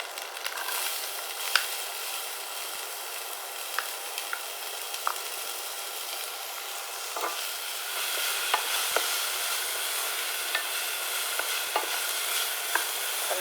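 Onion frying in ghee, stirred with a steady crackling sizzle and occasional scraping clicks from the utensil, fairly close and continuous with no talking.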